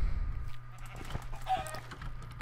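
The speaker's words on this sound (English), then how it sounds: "Come here, chicken!" A chicken in the Minecraft video game gives short, faint clucks over a low background hum, with no talking.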